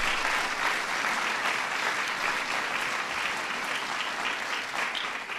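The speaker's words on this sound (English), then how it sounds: "Give Joan a big round of applause." A big, dense round of audience applause at a national arts medals ceremony, honoring Joan Shigekawa, steady and sustained from start to finish with no speech over it.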